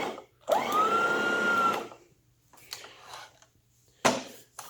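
A cordless 24-volt power head for a retractable-hose central vacuum, with a 14-inch wooden chevron bristle roller, switches on and whirs briefly, then cuts out, followed by a few short clicks and bumps nearby.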